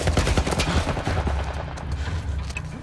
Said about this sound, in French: Un genre de tourelle militaire!